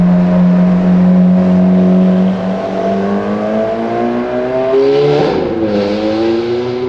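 A BMW M3 with a naturally aspirated V8 revs hard and close, its engine note climbing steadily under full throttle before a brief shift dip and another loud rising pull.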